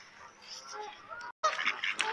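Ducks or geese being fed give soft quacks and honking calls close by, irregular and fairly faint, with a brief pause partway through.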